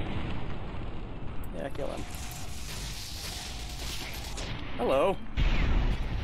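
Plasma weapon blasts in Fallout: New Vegas, Lonesome Road, rumble as a steady roar of explosions under game noise, with voices talking and a brief greeting spoken over the chaos.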